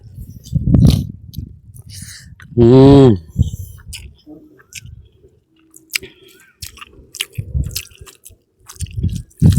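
Someone eating mutton keema outdoors on a hilltop, close wet chewing and squishy bites in uneven bursts, with a short vocal hum of enjoyment in between.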